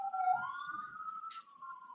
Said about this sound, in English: Sirens go further away.